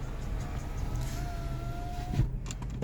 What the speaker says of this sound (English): Let me put the window up